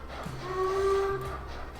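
A modded steam locomotive whistle in Transport Fever 2 gives one sustained, fairly faint tonal blast over a low background rumble, with no talking.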